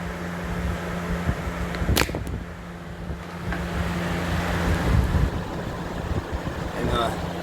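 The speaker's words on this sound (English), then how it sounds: "I'm plugging it up to my favorite station. Here's high speed." A 1993-1994 Air King 20-inch box fan, model 9733, runs on high speed with a steady, loud airy whoosh and a low motor hum, and a brief sharp click comes near the start.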